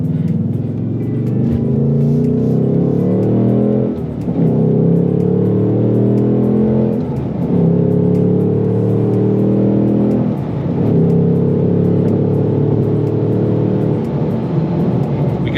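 A 2024 Ford Mustang Dark Horse accelerates hard from inside the cabin, its engine revving loud and close through repeated climbing pulls, with brief dips at each gear change.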